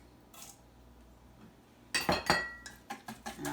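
A spice mixture with maple sugar being whisked in a bowl, heard as a brief quiet clink and then a burst of rapid, close metallic scraping and tapping strokes.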